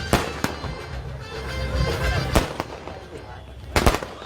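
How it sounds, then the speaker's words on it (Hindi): Fireworks burst over Ana Sagar lake at the jetty in Ajmer, giving several sharp, booming cracks spaced a few seconds apart, with a pair close together near the end, over a continuous hiss of crowd and background noise. "किस तरह से भव्य आतिशबाजी इस वक्त हो रही है अजमेर के आना सागर जेटी पर"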